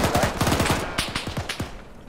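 Gunfire in the Arma 3 military video game, set in the 1965 Congo, a loud volley of rapid shots with a few separate cracks after it and a slight echo, with no talking.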